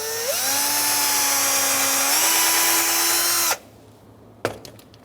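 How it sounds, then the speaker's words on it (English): A power drill with an attachment whines loudly and steadily for several seconds, its pitch stepping up as it speeds, then cuts off, followed by a sharp knock, during a front brake job on a Ford Taurus. "Use my drill attachment."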